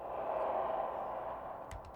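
Processed explosion impact built from a struck shower curtain, with convolution reverb and Slapper ST applied, sounding as a sustained, boomy rumble and wash that holds steady at moderate level, with a few brief clicks near the end.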